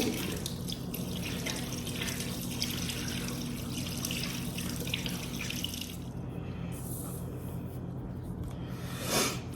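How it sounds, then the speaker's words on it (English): Water streams steadily from a kitchen tap into a sink while hands are washed, a continuous close splashing hiss that shifts slightly near the end as the flow is disturbed. "Wash my hands."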